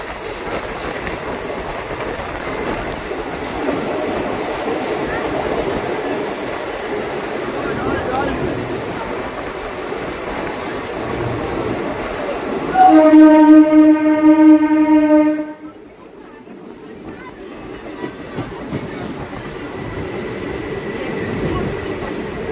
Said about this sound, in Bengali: Santragachi Digha first passenger train